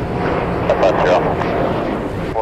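JetBlue jet airliner passing over Cleveland Hopkins airport in heavy rain during a hurricane, a broad continuous roar close by, with radio chatter and a voice heard over it.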